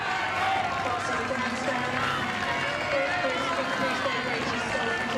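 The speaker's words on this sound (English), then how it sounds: "you can hear the noise coming from the crowd" Spectators at the Henley rowing regatta cheer and shout as junior quad sculls race down the course. The roar is broad and sustained at moderate distance, with a commentator talking over it.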